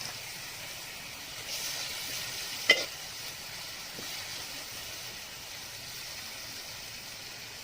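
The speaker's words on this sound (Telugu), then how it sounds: "ఉల్లిపాయ ముక్కలు మగ్గుతూ ఉండగా పచ్చిమిర్చిని కూడా యాడ్ చేసుకోవాలి." Onion pieces and green chillies frying in a pan give a steady, soft sizzle throughout, with a single faint clink partway through.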